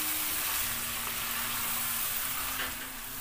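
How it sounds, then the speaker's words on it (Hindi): Chicken and ground masala frying in oil in a pan, a steady dense sizzle with faint stirring scrapes, even and close throughout. "अब इन सबको बढ़िया से भूनना है तेल अलग होने तक"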